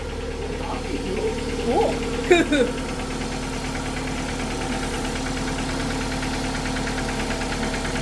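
A Dodge Neon car engine runs at a steady idle, a constant low rumble close by, with brief voices over it.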